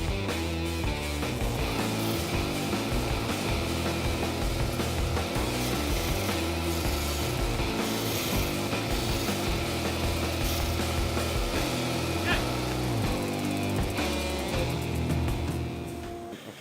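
A workshop dust extraction system runs loudly and steadily throughout, a continuous dense roar that holds level before easing slightly at the very end.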